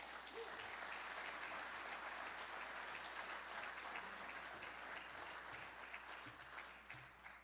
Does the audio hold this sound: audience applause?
yes